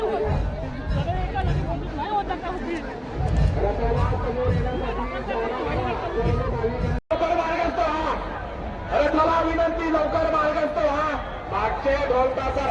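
A dense crowd presses through a Ganpati immersion procession in Pune, a loud continuous babble of many voices with nearby chatter and shouting throughout.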